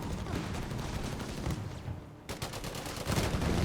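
MG 34 machine gun fire in the Company of Heroes 3 strategy game, rapid sustained bursts with battle booms, continuous and dense, with a brief lull in the middle before firing resumes.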